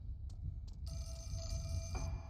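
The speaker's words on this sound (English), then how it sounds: "If a phone starts ringing in an abandoned place, don't answer it." A telephone rings in an abandoned place in the Fatal Frame video game, a bright electronic bell that starts with short bursts and then sounds steadily over a low rumbling ambience.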